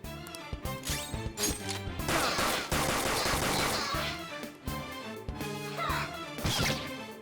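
Gunfire during a battle in Persona 5 Royal, a series of loud shots and crashing impacts in quick clusters with brief pauses, layered over game music and effects.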